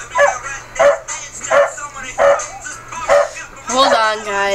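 A dog barks and yips repeatedly nearby, loud sharp bursts about once a second, ending in a higher whining yelp.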